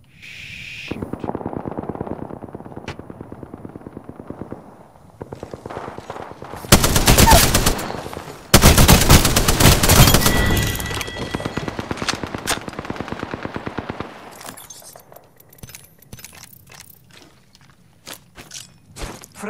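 Video game gunfire in a squad shooter: bursts of automatic weapon fire, sometimes scattered and sometimes dense, with several loud, heavy volleys in the middle and sparser single shots and footsteps after them, and no talking.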